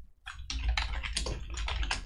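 Quick bursts of typing on a computer keyboard, close and crisp, with several rapid keystrokes in uneven clusters over about two seconds.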